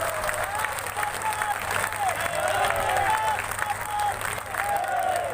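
A large crowd at a political rally in Nallasopara claps steadily as a loudspeaker voice carries faintly over the sustained applause.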